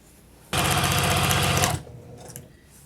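Sewing machine stitching quilt fabric for a square-in-a-square quilt top: a loud, rapid, even buzz of stitching that starts abruptly, runs about a second and a quarter, then stops, followed by faint soft handling noises.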